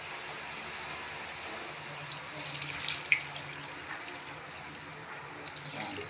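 Water poured into a cooking pot while making pansit kanto, a steady close splashing fill lasting several seconds with a slight surge midway, no talking.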